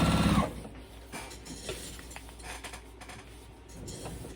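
A Juki sewing machine stitching a vinyl bag strap with a long stitch length: a loud steady whir at the start that quickly drops to a lower mechanical hum with scattered clicks and light knocks.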